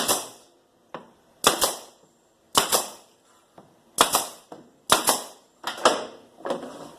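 A nail gun fires into a wooden workpiece held in a jig, making a string of loud, sharp pneumatic cracks spaced unevenly across several seconds, each one followed by a short rattling decay.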